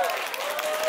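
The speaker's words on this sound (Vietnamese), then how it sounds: "xin một tràng vỗ tay để động viên cho đội Quan họ Bắc Linh ạ" An audience at a Christmas party in Garbsen applauds a Quan họ folk singing group, a dense, steady wash of clapping from many hands, moderately loud and continuous for about a second.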